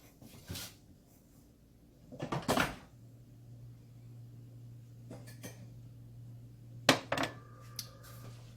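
A glass taken from a kitchen cupboard: a few separate knocks and clacks of the cupboard and glassware, close but fairly soft, over a low steady hum.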